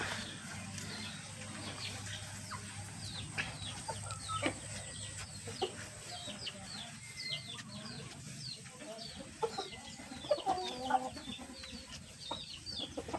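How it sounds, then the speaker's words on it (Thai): A flock of Burmese chickens clucks and chirps continuously at moderate distance, many overlapping short calls against a low steady hum, without any talking. "ไก่ก็พอมีนะครับ"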